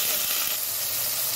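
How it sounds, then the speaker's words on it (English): Tomatoes go into a pan of golden-brown frying onions for a ladyfinger curry, giving a loud, steady sizzle and hiss close by, with no talking. "fry the tomatoes until they become soft"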